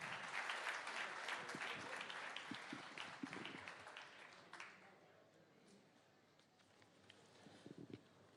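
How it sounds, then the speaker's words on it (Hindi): Audience applause greets Union Minister Anurag Thakur at a televised stage event, a broad, dense wash of clapping that is loud at first, then thins and fades toward the end, with a few scattered claps lingering. "जोरदार तालियों से स्वागत करिए यूनियन मिनिस्टर अनुराग ठाकुर जी का"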